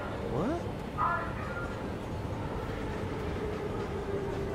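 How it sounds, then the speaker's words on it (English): Low rumble of a train ride inside the horror game SOMA, a steady, moderately loud rolling hum with brief voice-like sounds near the start. "On a train, riding the train."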